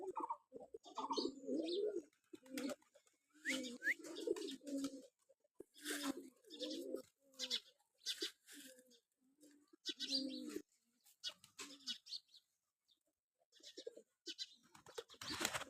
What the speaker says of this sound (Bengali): এগুলো হচ্ছে আদত জালালি, একদম অরিজিনাল জালালি কবুতর।